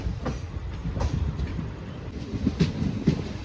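The Guruvayur–Madurai Express runs from a loop onto the main line on a single-line section near Thrissur, with a close, steady rumble of carriages and scattered clicks and clunks of wheels over the rails.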